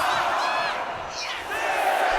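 A wrestling arena crowd in WWE 2K25 cheers and roars steadily through a Last Woman Standing match between Charlotte Flair and Jade Cargill, with a brief dip before swelling again.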